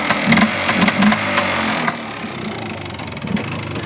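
A Polaris Xplorer 400 two-stroke quad engine catches just after the choke is turned back on, then settles into a close, steady idle that knocks rapidly, loud at first and easing slightly.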